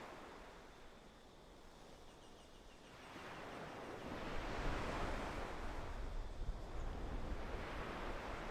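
Ocean waves rolling in at a seaside sanctuary, a steady broadband wash that swells louder midway and keeps surging in slow, breathing cycles with light wind, no voices.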